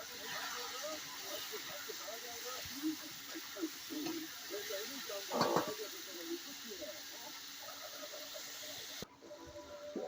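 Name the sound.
chopped vegetables frying in a pan with fish head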